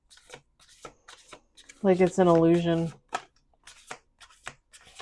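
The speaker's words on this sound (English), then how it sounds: "1 more shuffle. Last shuffle." Soft, rapid riffling and tapping of cards being shuffled, with a person speaking briefly over it.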